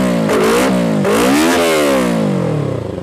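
A two-cylinder Yamaha Vixion motorcycle with an aftermarket three-mode exhaust in its quiet standard setting revs up loudly nearby in three short throttle blips, the engine pitch rising and falling before it settles to idle.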